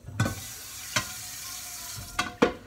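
Ham frying in a pan: a soft continuous sizzle underneath a few sharp knocks and scrapes of a utensil against the pan, spaced irregularly and heard up close.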